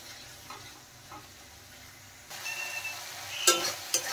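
Spice paste with ginger and garlic is fried and stirred in oil, first as a quiet sizzle, then as a louder, brighter crackle with a few sharp scrapes of the spoon against the pan.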